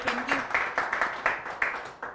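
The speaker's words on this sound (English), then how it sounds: "A very big round of applause to our guests once more" A crowd claps and applauds steadily for about two seconds, a dense patter of hands with a few louder swells.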